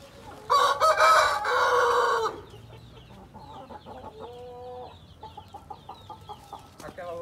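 A nearby rooster lets out one loud crow, followed by softer clucking and scattered fowl calls from a Brazilian backyard flock of Galinha Sertaneja Balão chickens, with no voices over it.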